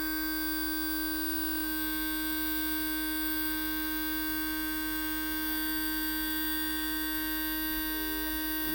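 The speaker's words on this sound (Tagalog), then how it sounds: "Bigla siya bumaba ngayon, mapatining ng patining yung tunog ng motor niya." Continuous high-pitched whine of a torque-tuned electric motor breaking in, steady and fairly loud throughout, with no talking.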